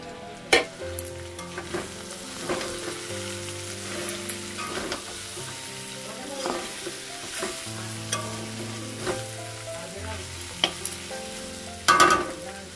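Flat beans with potatoes fry in a pan, a continuous sizzle broken by repeated sharp scrapes and knocks of a spatula stirring, close and loud with no talking.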